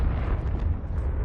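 Confringo blasting curse exploding in a Hogwarts video game: one loud, dense burst of rumbling blast noise that fills the short moment without a break.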